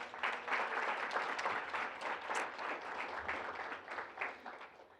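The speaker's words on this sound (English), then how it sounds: "Can we clap for those guys?" An audience at a student leadership awards event claps for the creative dining team, a moderate burst of applause that rises, holds, then tapers unevenly over a few seconds.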